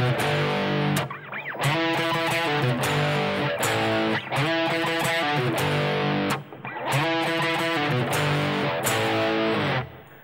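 Heavily distorted electric guitar plays the interlude from a song, loud chugging phrases in repeated bursts broken by brief gaps, close and dense, no voice.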